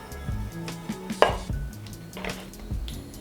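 Knife trimming fat off raw chicken on a cutting board, with a series of soft, irregular cuts and board taps at close range and no talking.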